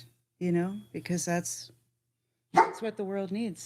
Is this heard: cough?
no